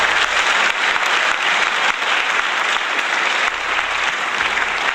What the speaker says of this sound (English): Please join me with a warm applause.